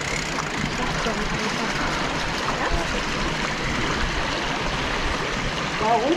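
A forest stream flows with a constant rushing, gurgling wash, close and even throughout, with a brief voice near the end.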